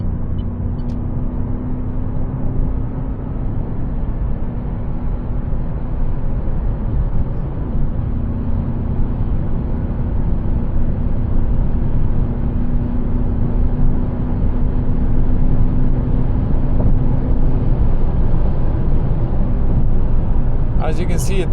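Inside a 2025 Citroën C3 with a 1.2 PureTech 100 hp engine and six-speed gearbox, driving at night, the engine drones steadily while accelerating in a lower gear, a continuous loud cabin hum that swells slightly toward the end.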